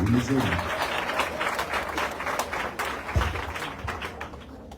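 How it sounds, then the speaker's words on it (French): Applause rises from the assembly at a nursing institute graduation ceremony before the national anthem, scattered claps and taps over a murmur of voices, moderately loud and uneven. "On nous applaudit"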